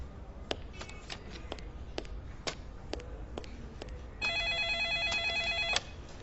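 A telephone rings at a police station, starting with faint electronic pulses and then giving one sustained, louder ring before stopping.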